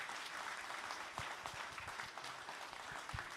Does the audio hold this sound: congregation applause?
yes